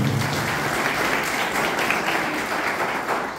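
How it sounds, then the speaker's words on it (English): An audience applauds a guest headmistress of a government ashram school at a study camp, dense steady clapping filling the room evenly for several seconds without a break. "Huge round of applause for Madam"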